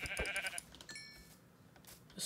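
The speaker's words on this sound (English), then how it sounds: "I'd like to just go and get some sheep so I can get some" Sheep bleating in the Minecraft video game: a couple of short, close bleats over quiet game ambience, with no talking.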